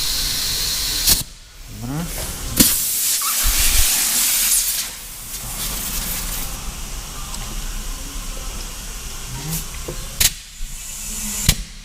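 Compressed air hisses steadily while a VW T6 tyre is inflated to 3 bar in a workshop, a broad continuous rush with a few sharp clanks and pops breaking through along the way.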